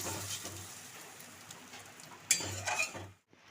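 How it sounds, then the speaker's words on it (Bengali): Water poured into a pan of simmering onion curry, a continuous hissing, bubbling wash under soft clatter of a utensil, with a sharp splash-like burst near the end before it cuts to near silence. "আমি এবার একটু জল দিচ্ছি অল্প জলই দেবো"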